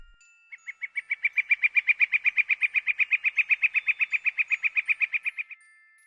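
Birdsong fills a forest scene as a story sound effect: one bird sings a fast, even series of bright repeated chirps for about five seconds, clear and close, with no other sounds.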